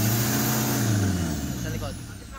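An Isuzu Trooper with a smoky, low-power fault, its engine held at high revs with a steady, loud drone that slowly eases off. Low harmonics dominate, and there is no clear talk over it.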